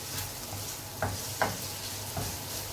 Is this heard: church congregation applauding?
no